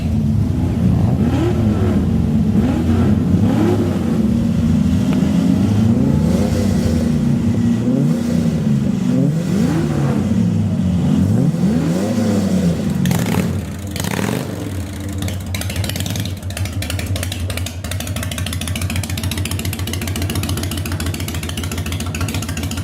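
Several car engines rev and rumble together, a dense, steady low drone with rising and falling pitch sweeps, loud and continuous, easing slightly to a lower hum toward the end.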